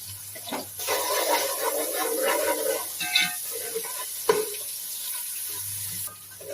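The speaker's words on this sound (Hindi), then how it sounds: "अब मैं इसमें शामिल करूंगी 2 चम्मच अदरक लहसुन का पेस्ट।" Ginger garlic paste sizzles loudly in a hot frying pan while a spoon stirs and scrapes through it, a steady hiss with occasional clinks, close and without talk.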